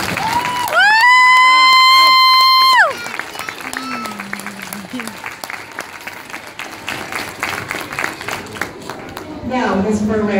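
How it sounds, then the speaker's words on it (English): An audience applauds two students being honored at a school recognition, a steady wash of clapping that follows a brief tonal sound at the start and tapers off toward the end. "let's give them a round of applause for their time"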